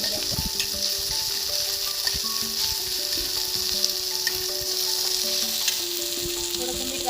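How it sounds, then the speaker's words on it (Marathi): Green chilies roast with onion in a pan, giving a constant hiss of steady sizzling and frying with faint stirring scrapes underneath, close and even throughout with no voices. "अशा प्रकारे मिरची पण भाजून घेऊया याच्यामध्ये।"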